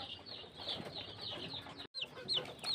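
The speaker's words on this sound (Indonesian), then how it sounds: "saya sudah memegang 1 anak ayam yang terserang penyakit CRD" A young chick sick with CRD respiratory disease gives faint, high, repeated peeps near the end, under a soft background of clucking fowl in a quiet coop.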